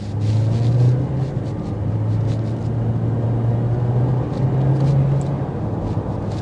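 A 2024 Volkswagen Jetta Sport driving in traffic, heard from inside the cabin as a steady low engine and road rumble with faint tyre noise and no talking.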